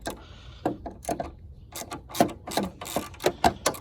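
A 7mm socket ratchet works on a car headlight screw, giving irregular close clicking bursts from the pawl as it turns and resets, with short pauses between strokes.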